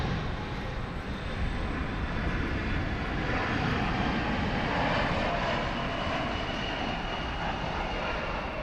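A heavy Singapore airliner, flight 7952, lands on runway 18 right at DFW with a steady, loud roar of jet engines that swells slightly and then holds for the whole stretch, with no voices.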